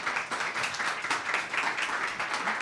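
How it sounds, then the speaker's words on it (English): Steady applause from a seated audience at a small arts gathering of Central Ohio women artists, a continuous wash of many hands clapping at moderate distance without voices over it. "Yes, a round of applause."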